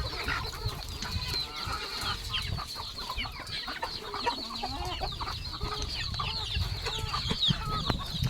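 Gavran desi roosters and hens cluck steadily on a farm, with overlapping close and distant calls over a constant busy barnyard murmur and no talking.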